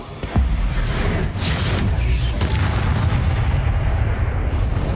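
Dense, continuous booming blasts from the Expulso spell in a Harry Potter video game, a loud near explosion with rumbling low-end roar and a couple of sharper bursts, sustained for several seconds.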